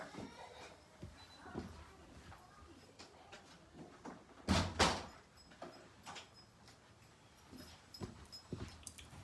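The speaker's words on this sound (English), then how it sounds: "Let me close this door." A door is shut indoors with two sharp knocks close together partway through, while a dog whimpers and moves around in a quiet room.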